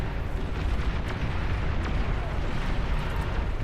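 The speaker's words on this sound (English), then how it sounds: "Yes, I'll fire your cannons." Cannon fire in the real-time strategy game Beyond All Reason, a dense, continuous rumble of overlapping booms and blasts at steady high loudness, with no clear breaks between shots.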